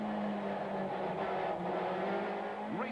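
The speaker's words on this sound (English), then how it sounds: "The cars come sliding through the Haviline sweep." Touring race cars at Kyalami circuit in 1994 sliding through a fast sweep, a continuous loud engine drone with a steady whine and a brief rising pitch sweep at the end, no voices.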